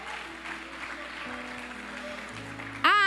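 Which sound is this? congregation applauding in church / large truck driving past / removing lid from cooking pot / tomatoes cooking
congregation applauding in church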